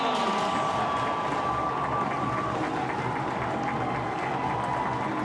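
Crowd cheering and applauding after a pole goal at an NCAA first-round college lacrosse game between Bryant and Virginia, a continuous roar of noise from a stadium crowd, steady and fairly loud throughout.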